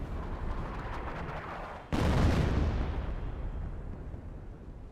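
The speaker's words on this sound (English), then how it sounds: "M2 barrage in the base there" An M2 artillery barrage strikes a base in Company of Heroes: a sudden heavy blast cuts through a steady roar of battle noise, then a long rumbling decay trails off.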